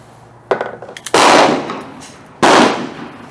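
Two loud, close gunshots from a Ruger LCR .22 Magnum revolver fired at an outdoor target, with a few lighter clicks and knocks before the first shot and each report decaying over about a second.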